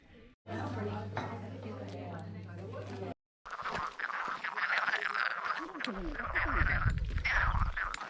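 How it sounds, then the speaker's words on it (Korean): A chorus of frogs croaks in a pond along the Camino de Santiago pilgrimage route, a dense, rattling, continuous croaking that grows louder and fuller toward the end. "여기 연못이 있는데 개구리들이 합창을 하고 있습니다."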